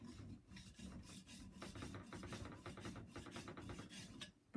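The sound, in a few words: blade rubbed on fine side of diamond sharpening stone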